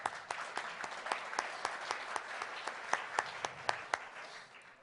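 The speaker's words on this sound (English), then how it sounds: "So a round of applause for Matt and his wife." A sparse audience claps for a man and his wife, with distinct individual claps in a loose, uneven rhythm that thins out toward the end.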